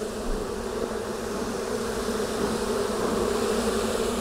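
Honey bees buzz steadily around a beekeeper's fingers at an open hive, a close, continuous droning hum with no voices.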